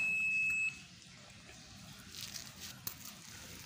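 A multimeter set to the ohm scale gives a single steady continuity beep of about 0.7 seconds while checking a two-door refrigerator's heater fuse wiring, followed by quiet handling noise.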